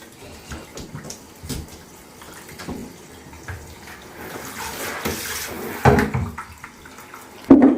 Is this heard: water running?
yes